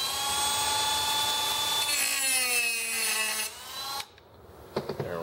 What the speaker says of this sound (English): I'll grab my Dremel and put a notch on this needle valve